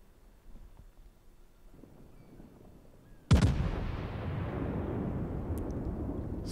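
The battleship Missouri fires its naval guns in World of Warships. Quiet ambient wind comes first, then one sudden heavy blast rolls out into a long, decaying rumble that lasts for several seconds.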